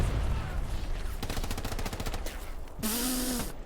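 Machine-gun fire during a competitive Hell Let Loose match: a loud, rapid burst of evenly spaced shots, followed by a sharp rising whistle and a hiss, with no talking over it.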